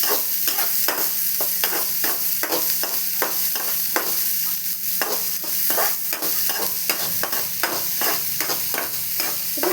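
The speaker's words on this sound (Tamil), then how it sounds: "இப்போ வாங்க இது கோல்டன் ப்ரௌனாக வதக்கிடலாம்." A full bowl of sliced onions sautéing in a pan toward golden brown, a steady sizzle broken by regular scraping strokes of a spoon stirring throughout, close and loud with no voice.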